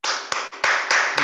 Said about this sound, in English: The applause, please.